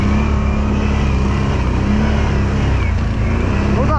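A car engine labours under load while driving off-road over dry ground, a loud, steady low drone that holds throughout with no talk heard.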